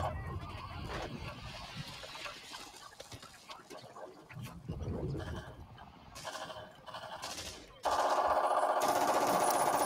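German MG 34 and MG 42 machine guns fire in a war film battle scene, rapid bursts mixed with explosions and battlefield clamor, growing louder and denser toward the end.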